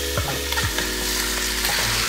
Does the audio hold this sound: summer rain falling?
no